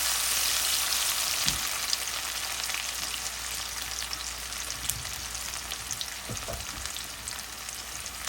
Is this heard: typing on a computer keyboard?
no